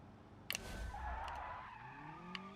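Car tyres skidding and squealing after a handbrake pull in the driving game BeamNG, a sustained screech lasting a couple of seconds with engine noise underneath, heard alone.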